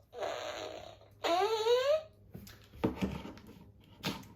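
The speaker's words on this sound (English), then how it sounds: "Kids enjoy the fart noises." Several cartoonish fart noises from a Dino Fury Morpher toy with the Boom Tower key: a buzzy sputter, a longer wobbling squeaky one, then short, quieter blurts.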